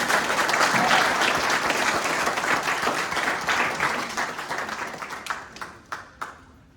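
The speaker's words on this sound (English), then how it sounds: "A round of applause for Eric Garwood." An audience at an awards ceremony applauds loudly, a full wash of clapping that gradually dies away into a few scattered, separate claps at the end.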